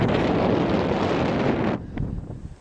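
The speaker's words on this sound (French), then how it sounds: "Beaucoup de vent comme vous pouvez l'entendre." Strong wind buffets the microphone at a timber-frame house under construction in a loud, continuous roar that suddenly drops away indoors, leaving fainter gusty rustling.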